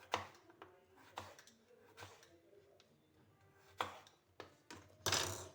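Ash gourd (sorekai) being cut with a knife in a home kitchen, giving a few scattered, sharp chopping knocks. The knocks are quiet and irregular, and a louder burst of cuts comes at the end.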